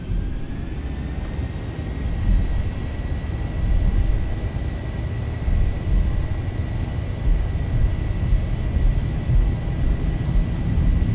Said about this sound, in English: Takeoff thrust set.